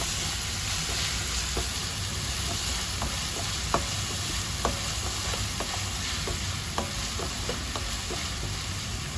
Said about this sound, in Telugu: దీంట్లోకి కొద్దిగా జింజర్ గార్లిక్ పేస్ట్, పచ్చి వాసన పోయే వరకు ఉడకనివ్వాలి